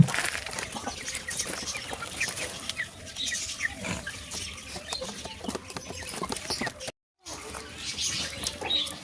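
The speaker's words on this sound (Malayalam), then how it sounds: "ഈ കോഴി ഭയങ്കര ക്യൂട്ടാണ്" Brahma chickens cluck and rustle close by, with bursts of wing flapping and scratchy movement scattered across the clip, fairly quiet with little talk.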